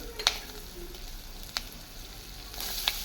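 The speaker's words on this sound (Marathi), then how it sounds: "ह्याच्यामध्ये आपल्याला कांदा घालायचा आहे हे सगळं भाजून घेतो आहे आपण" Green chillies, ginger, garlic and onion fry in oil for methi matar paneer malai, a faint, steady sizzle marked by three sharp clicks or taps from a utensil, with no talking.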